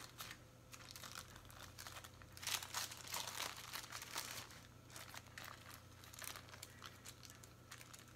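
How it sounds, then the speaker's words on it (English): Waxed paper peeled slowly off a very hot baked cake sheet for a pumpkin tiramisu cake, a close, continuous crinkling and crackling rustle with soft tearing bursts. "we need to peel away the waxed paper"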